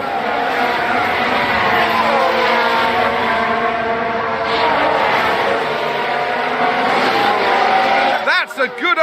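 Formula 1 race cars in the F1 Manager video game scream past one another in a sustained, loud, high engine whine, with a brief tyre squeal from a wheel lock-up near the end and a voice talking over the action.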